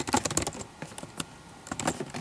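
Short bursts of key presses on a computer keyboard as a password is entered, irregular clicks close by, with a pause in the middle before another quick flurry.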